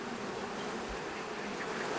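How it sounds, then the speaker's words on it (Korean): A swarm of honeybees hanging in a tree gives off a dense, continuous buzzing drone, steady and enveloping outdoors, with no talking. "벌들이 나무에 잔뜩 매달려 있습니다."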